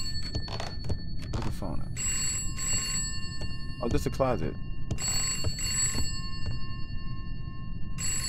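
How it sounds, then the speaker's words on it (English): An electronic telephone rings in repeated bursts of bright tones inside a home, somewhere out of sight, continuing under steady conversation and movement. "There's a phone ringing."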